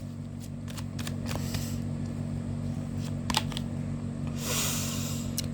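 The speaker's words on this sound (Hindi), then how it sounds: "Last shuffle." Tarot cards shuffled by hand, a series of soft riffling flicks and taps over a low steady hum, fairly quiet and close.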